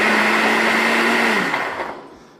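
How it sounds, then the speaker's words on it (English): A blender runs loud and close, whirring through strawberries and pineapple for a smoothie, its steady motor pitch dropping and winding down as it switches off. "What I'll do now, it's something I need to do, is blend."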